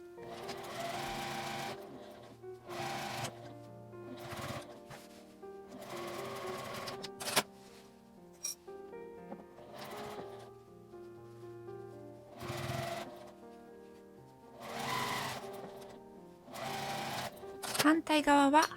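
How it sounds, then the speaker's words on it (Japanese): A sewing machine stitches a shoulder drawstring bag with a 1 cm seam allowance, running in repeated bursts of steady close whirring separated by short pauses. "返し口を開けて1センチの縫い代で縫います。"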